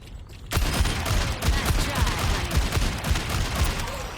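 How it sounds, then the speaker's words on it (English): Ashe's rifle firing in the video game Overwatch: a rapid, steady run of loud gunshots starting after a short quiet lead-in and continuing without pause to the end. "Let's look at how she shoots her gun."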